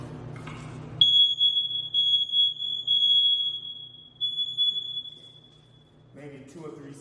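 A shrill, steady electronic smoke alarm tone sounds loudly for about five seconds, with brief talk before and after it.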